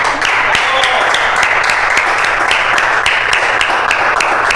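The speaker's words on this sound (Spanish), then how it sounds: "Vamos a recibirlo con un fuerte aplauso." Studio audience on a Spanish-language variety show applauds to welcome a guest, a steady dense wash of clapping lasting throughout, fairly loud and close, with some crowd murmur underneath.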